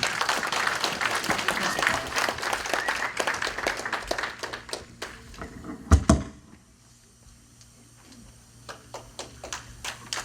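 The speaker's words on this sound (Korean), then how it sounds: "그리고 박수로 좀." A live audience claps at an event with a visiting professor, dense applause filling the room for about six seconds before fading to scattered claps and quiet room tone.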